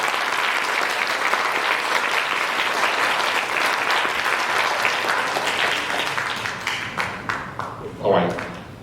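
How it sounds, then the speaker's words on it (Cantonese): Wedding guests at a registration ceremony give loud, sustained applause that thins into scattered claps toward the end, and a voice speaks briefly as it dies down. "律師想大家俾一個最勁嘅祝福掌聲"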